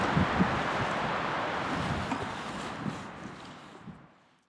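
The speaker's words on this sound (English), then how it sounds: "It's super windy, hope it dies down." Strong wind in the Chiricahua Wilderness roars in a steady broadband rush, buffeting the microphone, then gradually fades away to quiet.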